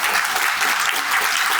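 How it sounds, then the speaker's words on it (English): An audience at an improv class show claps in a brief, dense burst of applause, close and steady throughout. "So let's give Iron Man a round of applause."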